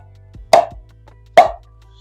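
An Aireo Cyclone foam pickleball paddle strikes a ball twice, about a second apart, each hit a sharp, close hollow pop over a quiet low background hum.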